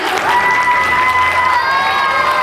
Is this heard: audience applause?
yes